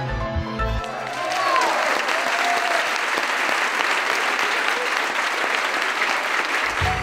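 Loud, sustained applause from a crowd for dancers on the floor of La Coupole, a Paris nightclub, rising after a brief musical opening and holding steady and dense to the end.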